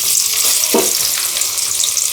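Onions deep frying in hot oil until golden for a dum biryani, giving a steady, close, dense sizzle with a brief louder crackle partway through and no voices.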